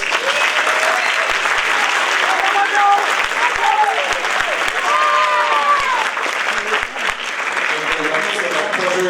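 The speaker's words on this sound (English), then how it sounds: "Please give a round of applause." Audience at a jazz festival applauding a middle school jazz band, sustained crowd clapping with scattered whoops and cheers rising above it and voices mixed in throughout.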